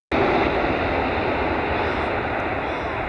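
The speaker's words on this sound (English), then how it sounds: "Cathay Pacific Cargo Boeing 747-8 comes in extremely hard at Amsterdam." A Cathay Pacific Cargo Boeing 747-8 comes in for a hard landing at Amsterdam: a loud, steady jet roar starts abruptly and holds unbroken, with no talking.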